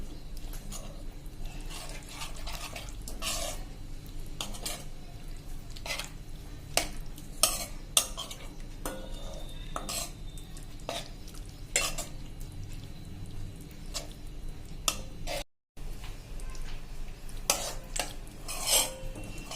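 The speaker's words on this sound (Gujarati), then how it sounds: "હવે આ ઠીક થાય ને ત્યાં સુધી આપણે આને ચલાવતા રહેશું" Spoon scrapes and stirs dahi mirchi, a yogurt and green chili curry, in a pan, with steady soft sizzling underneath and repeated sharp clinks of utensil against metal.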